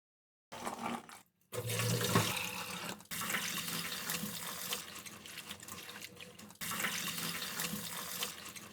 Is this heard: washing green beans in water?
yes